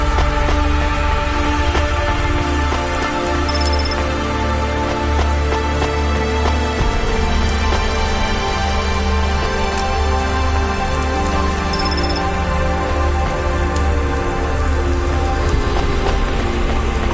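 Steady rain falls in the cyberpunk city game Cloudpunk, a dense continuous patter heard alone under a layered synth ambience, with two faint high chimes ringing briefly.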